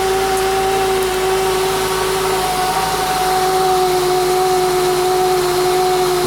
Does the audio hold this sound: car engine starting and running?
yes